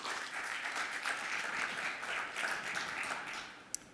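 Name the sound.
audience applause for the speaker Tim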